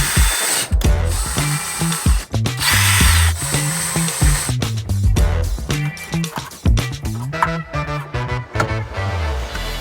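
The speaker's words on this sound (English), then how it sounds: "let's try to get these screws back in here." A power drill drives screws into the stereo bracket in a Jeep TJ/LJ dash during a Sony AX1000 double-DIN install, whirring in short bursts that speed up and stop, with a few clatters between runs.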